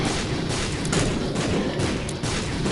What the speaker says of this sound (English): what is effectively an explosion Gatling gun